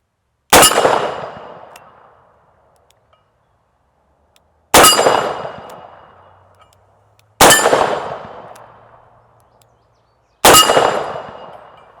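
A Smith & Wesson 629 .44 Magnum revolver fires four double-action shots spaced a few seconds apart, each a sharp crack followed by a ringing steel target clang that slowly fades, with quiet between shots.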